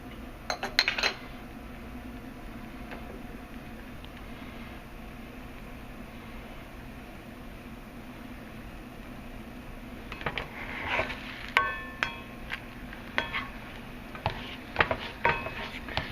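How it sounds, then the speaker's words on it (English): Eggs being scrambled in a cast iron pan: quiet metallic scraping and clinking of a utensil against the pan, sparse at first and busier later, over a soft background hiss. "Just scramble it up nice."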